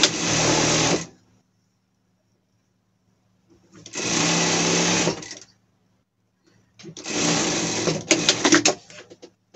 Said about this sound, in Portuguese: Colocar pra cima e passar uma costura. Você pode estar fazendo na zigue-zague